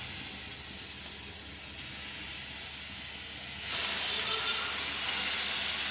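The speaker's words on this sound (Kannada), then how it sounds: "ಉಂಡೆಗಳನ್ನೆಲ್ಲ ಇಟ್ಕೊಂಡು ಎಣ್ಣೆ ಸ್ವಲ್ಪ ಫ್ರೈ ಆಗೋಕ್ಕೆ ಓಪನ್ ಪ್ಯಾನ್ ಬಿಡಿ." Mutton kheema meatballs frying in hot oil in an open pan, a continuous broad hiss and sizzle that swells louder partway through and holds steady to the end.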